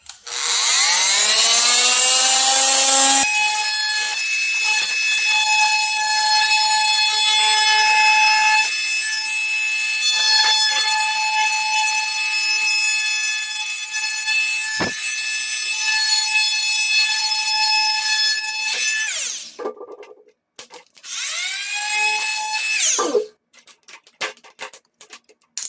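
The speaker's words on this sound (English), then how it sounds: "All right, so let's cut this guy up. I actually have one of these little oscillating tools." A handheld oscillating multi-tool cuts through a plastic car side skirt, giving a loud, steady high-pitched buzzing whine for nearly twenty seconds, then stopping and starting again in a few short bursts.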